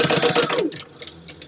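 An electric sewing machine stitching a leather wallet liner runs in a rapid, steady burst for about half a second, then stops, leaving a few faint clicks and soft handling noises.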